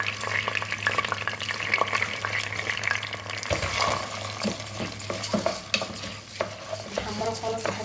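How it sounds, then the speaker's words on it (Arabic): Rice frying in a pan beside chicken until it turns golden, with steady close sizzling and continuous stirring and scraping throughout, no voices. "نحمره خالص لحد ما ياخد لون دهبي حلو"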